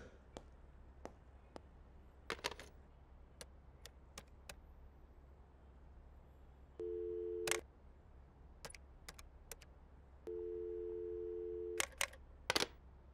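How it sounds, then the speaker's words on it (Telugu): Two stretches of a steady electronic tone, each about a second long and repeating, with scattered sharp clicks and taps around them in a quiet room. "చాలా ట్రై చేశాను సార్, ఫోన్ ఎంగేజ్ వస్తుంది"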